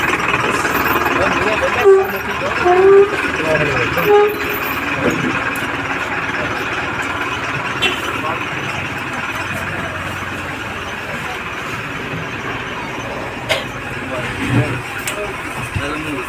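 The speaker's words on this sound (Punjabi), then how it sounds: "ਬੱਸ ਆ ਗਈ ਆ ਸਾਡੀ" A bus engine idles with a low continuous rumble after pulling in, with people talking nearby over a busy outdoor background.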